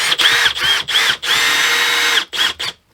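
Milwaukee M18 drill driving a screw into a horse trailer's living quarters: a series of close, loud whirring bursts, several short runs and one long sustained spin, with brief pauses between.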